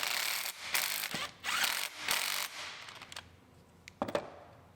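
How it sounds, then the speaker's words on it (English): A hand ratchet clicks in quick, close strokes while tightening bolts on a replacement turbo return tube on a 2014 Chevy Cruze engine, several loud bursts followed by a few quieter clicks. "we'll just use our old bolts to bolt it in"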